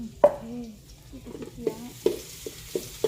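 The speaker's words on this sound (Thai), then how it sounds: "ตอนนี้เสียงปอแป๊บปอแป๊บแล้วแหละ" Food sizzles and crackles in a hot pan, with several sharp pops and clicks of a utensil stirring, close up and fairly quiet.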